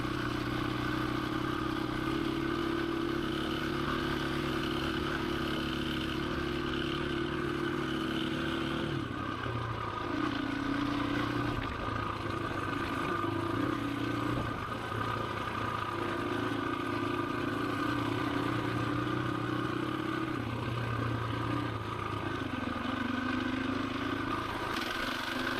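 KTM 525 EXC motorcycle climbing a hilly dirt track on Devil's Pinch Road, its engine a steady droning hum with rising and falling pitch and light clatter, constant throughout, no talking.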